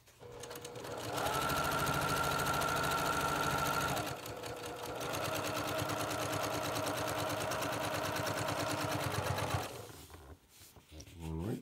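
A Brother PQ1500SL sewing machine runs fast and steady while piecing quilt blocks, a loud, close, continuous hum that pauses briefly and restarts before slowing to a stop.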